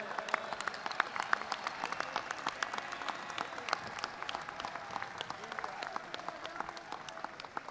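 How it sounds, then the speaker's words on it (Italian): Crowd at an Italian political rally applauding a politician, steady dense clapping with scattered sharp claps at moderate distance, plus faint voices beneath. "Un applauso Roberto"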